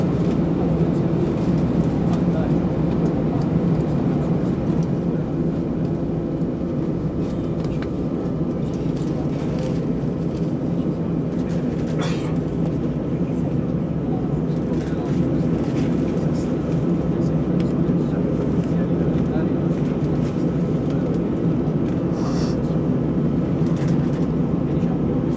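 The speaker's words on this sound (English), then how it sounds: "Cabin crew, be ready for takeoff." Inside the cabin of an Alitalia Airbus A320 at takeoff, a loud, steady low engine roar fills the whole stretch with faint clicks and rattles on top, while a voice speaks over it.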